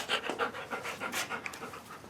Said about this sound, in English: I seem to have a dog in my way